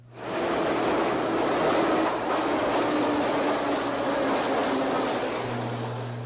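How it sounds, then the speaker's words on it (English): A Moscow subway train runs with a steady, loud rumble and the rhythmic clatter of wheels on rails, holding a constant roar throughout with no talk. "The subways and subway stations are popular stops for foreign tourists in Moscow, especially Americans."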